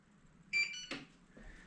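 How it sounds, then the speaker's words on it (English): An electronic device, part of a HobbyZone Carbon Cub S2 model airplane setup, gives a short idle-warning beep: a brief tonal bleep, then a soft click, in a quiet room. "if you don't use it for a few minutes, it tends to beep at you"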